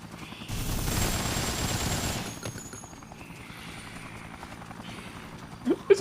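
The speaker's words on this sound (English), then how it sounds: "Fucking helicopter." A helicopter in the video game Dead Rising whirs with rapid gunfire during the first two seconds, then a lower, steady rotor drone continues with faint game effects and a couple of sharp bursts at the end.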